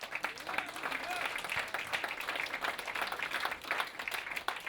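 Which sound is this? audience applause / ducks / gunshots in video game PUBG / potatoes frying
audience applause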